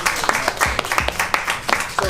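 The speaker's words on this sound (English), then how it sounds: "Give them another hand clap, please." Scattered audience hand clapping at a business tour event in Atlanta, a short burst of irregular claps close by with voices mixed in.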